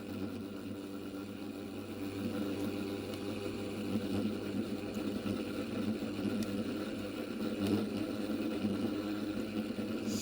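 A small electric motor spins a 3D printed rotor at about 5,700 RPM on 8 volts, making a steady whirring drone with a buzzing hum that holds constant throughout.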